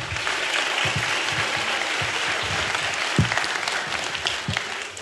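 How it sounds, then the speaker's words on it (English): A conference audience at a DEF CON hacking convention claps in a loud, sustained round of applause that fills the hall for several seconds, with a few scattered louder claps and faint low murmurs underneath. "So everybody, big round of applause for Michelle."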